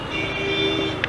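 A vehicle horn sounds in steady, even tones on a busy town street on the road from Nagercoil to Ernakulam, with traffic rumbling underneath, a short sharp click near the end.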